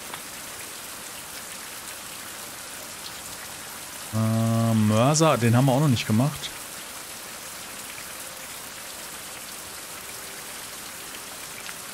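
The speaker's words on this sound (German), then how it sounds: "Boah, der Regen ist ganz schön laut," Steady loud rain hisses throughout the Fountain of Youth video game scene, a constant broadband wash from start to end, with someone speaking briefly over it in the middle.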